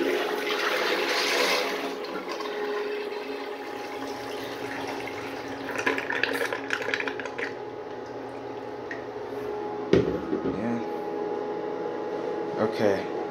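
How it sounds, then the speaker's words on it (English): A miniature 1989 Kohler Highcliff toilet flushes, water rushing and gurgling steadily through the bowl for several seconds before tapering into trickles and drips, close and fairly loud, with a few clunks near the end. "Do another flush."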